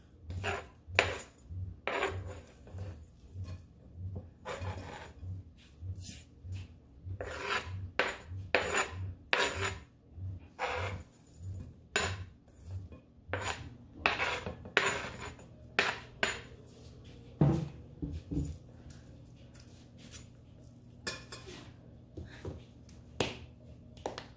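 A utensil scrapes and taps against a pan while onion, ginger and garlic are mixed for Filipino beef adobo, giving repeated close metallic clinks and rasping strokes in an irregular rhythm with no talking.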